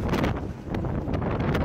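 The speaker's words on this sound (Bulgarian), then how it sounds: "Вятърът в Холандия." Strong wind in the Netherlands buffets the microphone, a continuous low rumbling roar with gusty flutters and brief bursts, close and loud with no talk.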